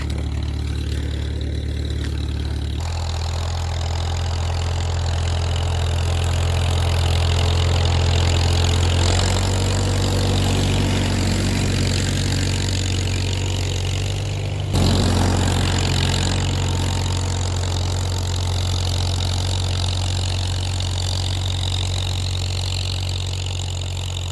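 An antique 36-horsepower tractor engine idles steadily and loudly, a constant low rumble with slight rises and dips in pitch, no voices.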